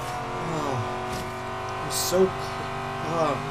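Corvette engine in Forza Horizon 3 pulling hard out of a corner on a rainforest sprint, a steady droning engine tone with rising harmonic sweeps, continuous and fairly loud, with a brief brighter burst midway.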